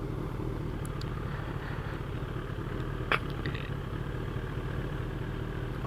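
A 2012 Kawasaki Ninja ZX10R with about 57,000 km idles steadily at traffic lights, its low engine rumble constant and close throughout with light traffic noise around.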